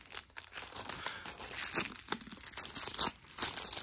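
Cardboard and plastic packaging on a Super Mario RPG game box crinkles and tears close up in quick, fairly quiet bursts, with no talking.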